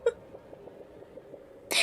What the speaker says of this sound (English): I got hiccups